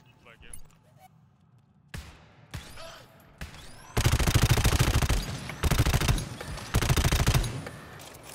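Gunfire in the co-op shooter GTFO: a few separate shots, then long loud bursts of rapid automatic fire close by, with people talking over the quieter opening.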